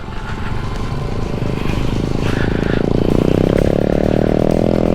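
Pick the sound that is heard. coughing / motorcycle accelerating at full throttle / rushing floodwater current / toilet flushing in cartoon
motorcycle accelerating at full throttle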